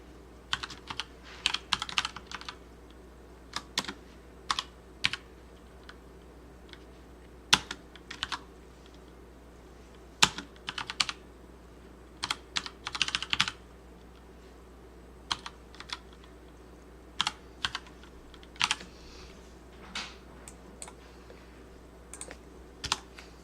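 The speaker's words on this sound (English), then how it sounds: "Oh my gosh, stop typing it there." Keys on a computer keyboard are tapped in short, irregular bursts of quiet clicks separated by pauses, close by over a faint steady hum.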